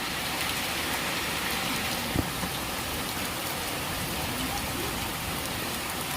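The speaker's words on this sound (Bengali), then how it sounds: "বৃষ্টি পড়ছে মাটিতে" Steady rain patters on the ground in a dense, continuous hiss, with one brief louder thump partway through.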